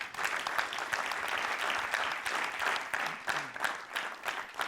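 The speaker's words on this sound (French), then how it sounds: "Et on peut encore une fois les applaudir." Crowd at a football awards ceremony for the National league season's best eleven applauds loudly, a sustained clatter of many hands with slight swells and dips.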